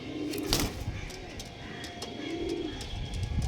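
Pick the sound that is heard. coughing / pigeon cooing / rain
pigeon cooing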